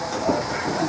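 Steady steam hissing from a small steam-powered milk float, a continuous broadband rush with faint mechanical undertones, close and even for the whole second.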